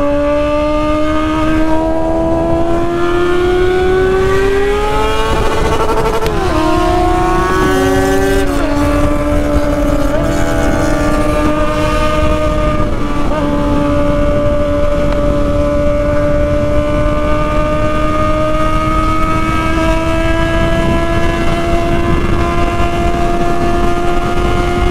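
Several motorcycles at a Honda Hornet night meet, loud and close, engines holding a steady drone with a burst of revving and pitch shifts early on, then settling into a sustained high rumble.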